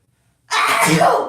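A single sharp sneeze bursts out abruptly after a moment of silence, close and loud, from a person with seasonal allergies.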